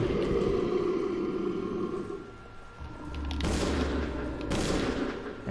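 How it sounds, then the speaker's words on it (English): Gunfire in the Resident Evil 0 video game, heard as a sustained loud barrage of shots with two sharp bursts near the end, no talking. "Aim and fire."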